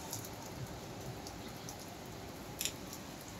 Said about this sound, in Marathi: मस्त मस्त पाऊस येतो आहे ग. किती पाऊस येईल ग. कंटिन्यू पाऊस पाऊस आहे चालू.